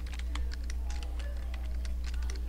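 Fast, light clicking of keys being typed on a computer keyboard, quick and irregular, heard over a steady low hum.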